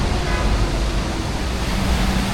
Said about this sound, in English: listening to the sound that the waves make on these stones here